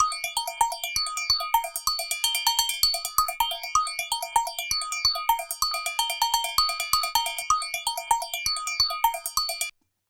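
A bright, bell-like tonal sequence run through a modulation effect with high feedback, its sweeping notches rising and falling in slow repeating arcs over steady plucked notes, loud and close, ending abruptly.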